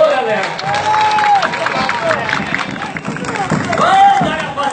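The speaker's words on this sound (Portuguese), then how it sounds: "as palmas do vereador, galera?" Crowd at a Brazilian folk poetry performance applauds and cheers, with broadband clapping and shouts throughout, and whistle-like calls rising over the noise.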